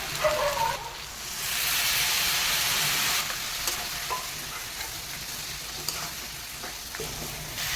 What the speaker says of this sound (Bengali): মশলাগুলো সব কষানো হয়ে গেছে